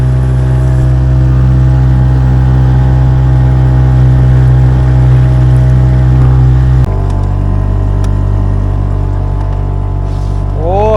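A motorboat engine drones loudly and steadily from close by, its pitch dropping partway through, with no talking.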